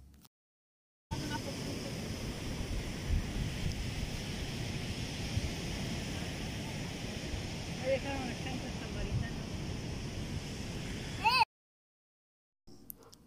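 Rough, continuous surf from somewhat high sea waves beside the Tecolutla river washes steadily for several seconds, mixed with wind buffeting the microphone and cut off abruptly at both ends.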